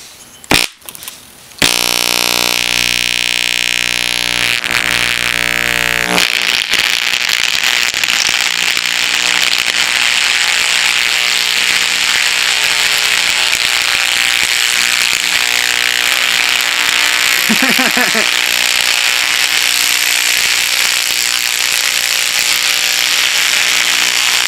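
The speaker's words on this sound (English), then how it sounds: "today I'm going to blow up the speaker with the cable box transformer" A loudspeaker is overdriven by a cable box transformer until it blows. After a few sharp clicks and pops it settles into a loud, harsh, continuous buzzing drone that stays steady to the end.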